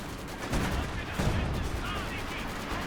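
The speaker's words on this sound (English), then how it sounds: "Oh, that's a Zis barrage." Artillery barrage from ZiS guns in a real-time strategy video game, a dense continuous rumble of explosions with two heavier bursts early on, loud and sustained.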